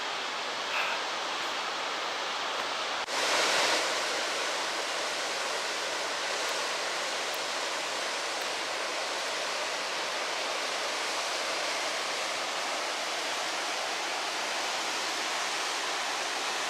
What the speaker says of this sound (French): au pied de cette gigantesque cascade.